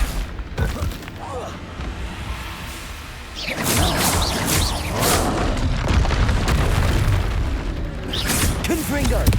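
Spell blasts in the Hogwarts Legacy video game, booming bursts and crashes over a continuous dense roar of combat, with a voice calling out through the noise.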